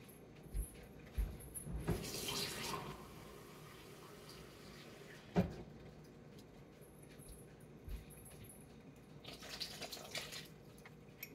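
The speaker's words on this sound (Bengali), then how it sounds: "এখন আমি এখানে গরম ঝোলটা দিচ্ছি," Hot broth poured into a pot of fish head and gourd curry, with soft splashing and liquid pouring in a few short bursts, quiet and close in a home kitchen, with no talk.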